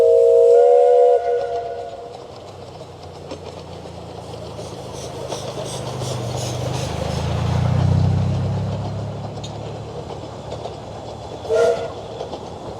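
A steam locomotive on the Ravenglass and Eskdale Railway in the Lake District gives a long whistle, then chuffs and rumbles as it pulls away, swelling and fading in the distance before a second brief whistle near the end.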